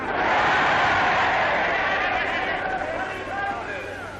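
London crowd yelling and cheering for Eisenhower, a broad, steady roar of many voices heard at a distance, fading slightly toward the end.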